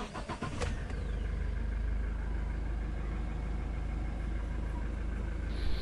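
A Toyota Innova engine cranks and catches, then settles into a steady, close mid-pitched idle that carries on without a break, with a faint clunk near the end.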